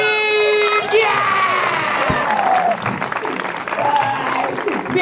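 A crowd at a street magician's show claps and cheers loudly. Bright shouting and whoops ride over the clapping, and voices are heard through the mix before the noise eases slightly.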